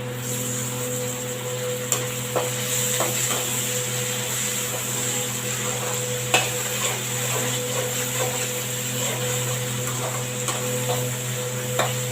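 Tomatoes and green chilies fry in a pan for a lake-fish curry, a steady soft sizzle with occasional scrapes and clicks of a stirring spoon, close and continuous throughout, no talk.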